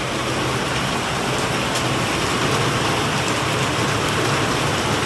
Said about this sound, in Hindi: बहुत तेज बारिश आई है।